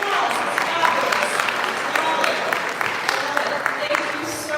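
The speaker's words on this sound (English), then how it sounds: "Give me a round of applause." An audience at a town hall claps in sustained applause, a dense crowd of hand claps filling the room with a few voices mixed in.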